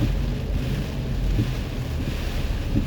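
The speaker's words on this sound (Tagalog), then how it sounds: "grabe ang ulan patindi ng patindi ang ulan" Heavy rain and strong wind during a storm on a road in Baguio City make a steady, loud roaring rush with buffeting gusts against the microphone and no voices.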